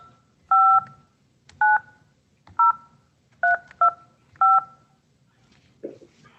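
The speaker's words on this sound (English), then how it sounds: "Please dial the 7-digit phone number of the person you wish to speak with" Touch-tone telephone dialing: a quick series of about six or seven clear DTMF tones, each short and evenly spaced, played close and alone with a faint noise after.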